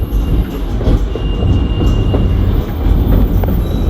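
White Pass scenic train running on rails just out of a tunnel, a loud, steady rumble and rattle of wheels and cars heard close up, with a faint thin squeal rising briefly over the constant roar.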